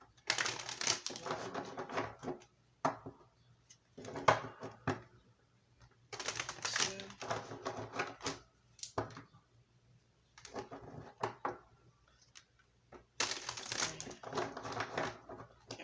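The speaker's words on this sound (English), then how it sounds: "Let's get 3 shuffles here." Repeated bursts of crisp riffling and flicking as tarot cards are shuffled, in several separate bouts with short quiet gaps between them, close up.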